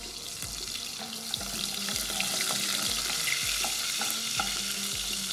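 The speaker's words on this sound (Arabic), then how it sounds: "بصوا عشان الحلة سخنة على طول الزبدة اتحركت فيها." Butter sizzles in a hot cooking pot, a continuous crackling hiss with a regular series of spoon or pot knocks under it. Moderately loud and close, with no speech.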